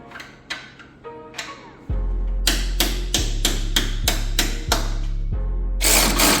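A pneumatic impact wrench torques a nut down on a Chevrolet Blazer, firing a burst of short, loud rattling hammer blows in quick succession, with a few clicks before the run.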